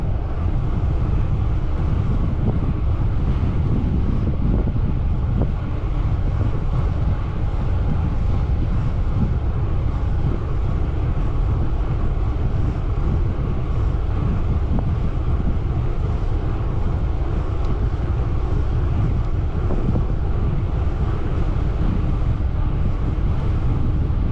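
Heavy wind roars over the microphone of a rider travelling about 30 km/h into a headwind, a loud, constant low buffeting that lasts the whole time with no speech.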